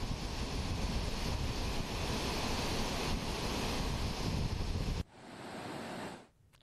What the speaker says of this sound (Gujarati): તો ગીરની તમામ નદીઓ અત્યારે 2 કાંઠે વહી રહી છે